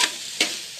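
Chicken pieces stirred and fried in a pan for a Batak dish, with a loud steady sizzle broken by two brief scraping stirs and a third starting at the end, no talking.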